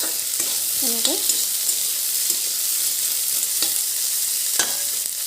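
Fish frying in hot oil without salt or turmeric, a loud constant hiss and crackle with a few spoon scrapes at the pan, close up; a voice speaks a brief word near the start.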